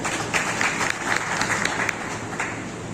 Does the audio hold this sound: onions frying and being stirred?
no